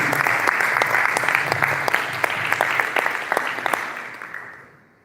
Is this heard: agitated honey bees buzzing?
no